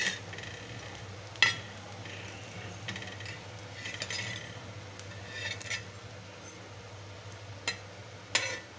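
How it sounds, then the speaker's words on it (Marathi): Bread toasting crisp on both sides in a pan for a tomato sandwich, giving a faint, steady sizzle under a low hum, broken by a few sharp clicks and scrapes of a utensil. "अशा पद्धतीने आता ब्रेड भाजून घ्यायचे खरपूस"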